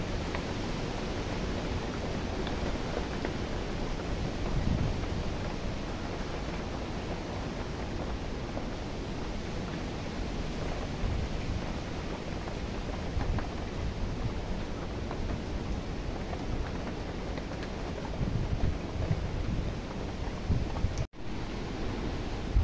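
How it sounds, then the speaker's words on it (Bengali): Storm wind sweeps through a village during rain as a continuous, even roaring rush that lasts throughout, with a brief click near the end and no talking. "দেখেন কেমন ঝড় হচ্ছে আমাদের দিকে"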